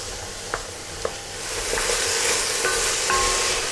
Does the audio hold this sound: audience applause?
no